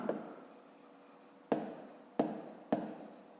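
Handwriting during a fifth-grade maths lesson on a box's width, heard as a steady close scratch of a pen or chalk with four sharper strokes marking new lines, no talk.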